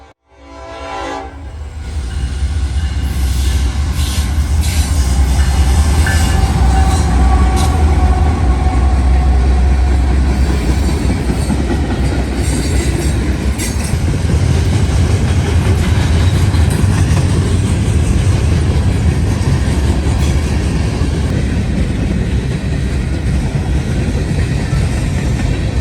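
Norfolk Southern freight train 170 rolls past eastbound on the Dayton District, a loud, sustained low rumble and rail clatter building quickly, with horn blasts near the start, no talking.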